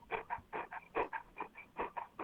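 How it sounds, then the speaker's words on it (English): Golden retriever dog in the background of an indoor conversation, giving a run of short rhythmic panting or whimpering bursts, roughly a dozen in a little over two seconds, moderately close and fairly quiet. "is that a dog in the background"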